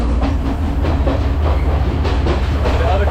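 The Kandy to Ella passenger train rolls along its rails in a loud, close rumble, with a rhythmic clickety-clack of wheels over joints repeating every few beats.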